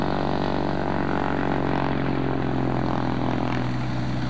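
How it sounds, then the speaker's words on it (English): Gyrocopter engine and propeller at an airfield fly-in, a steady loud droning buzz with a constant low hum running unbroken throughout, close by and without voices. "Planes get ready to take off."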